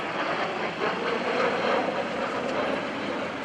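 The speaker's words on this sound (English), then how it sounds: "watch him roll the airplane upside down" Aerobatic airplane engine at the NAS Oceana airshow, a steady broad droning roar that swells slightly as the plane maneuvers, distant and continuous with no talk.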